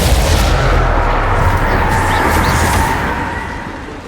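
A loud burst of fire magic from the Incendio spell in the Hogwarts Legacy video game, a sustained roaring blast with booming low rumble that slowly fades toward the end, no talking.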